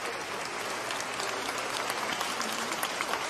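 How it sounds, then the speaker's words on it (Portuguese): A church congregation claps together in sustained applause, a dense, even crackle of many hands that holds steady and swells slightly toward the end, with no voices on top. "Vamos então, mais uma vez, saudar com aplausos que conheceram."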